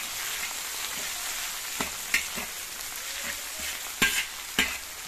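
Chopped onions and tomatoes fry in a pan for pasta, giving a steady broadband sizzle. A few sharp scrapes and taps of a stirring spoon sound against the pan, and no one speaks.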